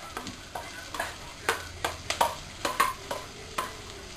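Sliced onion sautéing in melted butter in a frying pan, a low sizzle under repeated sharp taps and scrapes of a utensil stirring against the pan, close and without talk.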